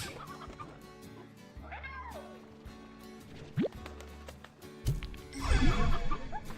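Chickens cluck in the video game Slime Rancher 2, their calls rising over a busy layered game soundscape with music, splashes and other creature noises, growing louder toward the end.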